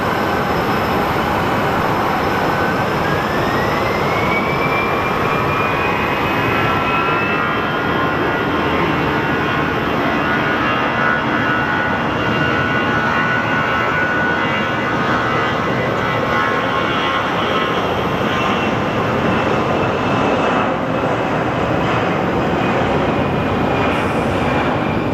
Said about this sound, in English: it sounds like Nevada 1 might be powering on from the sounds of the engines